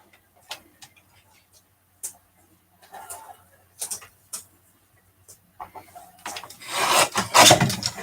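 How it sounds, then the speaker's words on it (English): Scissors trimming a thin sliver from the side of a handmade paper card, heard as a few sparse close snips and rubs building into a louder burst of cutting and paper rustle at the end. "I'm going to go ahead and trim just a sliver off one side of this"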